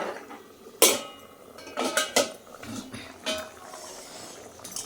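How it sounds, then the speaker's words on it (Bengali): A lid comes off a cooking pan of hilsa fish in mustard-poppy sauce, giving a few quiet metallic clinks and knocks over a low kitchen background, with no voices. "এবার ঢাকাটা খুলে দেখে নেব।"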